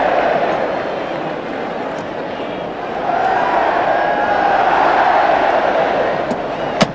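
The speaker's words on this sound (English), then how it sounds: "The Elland Road crowd are lapping it up." A packed Elland Road football crowd roars and cheers as Leeds United play at home, a broad, sustained wash of noise that swells midway and stays loud throughout.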